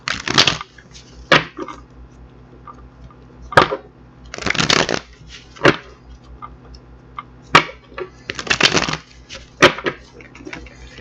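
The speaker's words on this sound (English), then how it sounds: "I'm going to get these cards shuffled up" Playing cards being shuffled in several bursts of crisp riffling, separated by short pauses and lighter card handling, close up with no talking.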